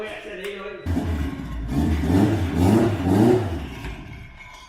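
Tuned 1992 Honda Civic with twin-disc clutch, about 27 pounds of boost and near 804 wheel horsepower, revving on a dyno: a loud engine rising and falling in pitch through a couple of strong pulls, with voices mixed in.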